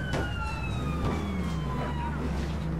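Police car siren in the APB Reloaded video game, a wailing tone sweeping downward and then winding down over a steady engine-like rumble, fairly close and clear.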